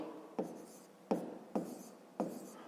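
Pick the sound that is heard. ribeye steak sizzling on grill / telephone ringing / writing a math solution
writing a math solution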